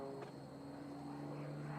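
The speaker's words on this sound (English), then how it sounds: "big propeller, little airplane" A small, very light aerobatic propeller airplane with a big, high-horsepower engine and large propeller drones steadily at an air show competition, a faint, even engine tone with no talk.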